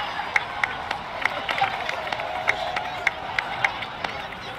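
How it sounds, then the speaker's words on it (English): Steady crowd applause in Genshin Impact, with sharp, regularly spaced claps standing out, continuous and fairly loud throughout. "please give another round of applause for them"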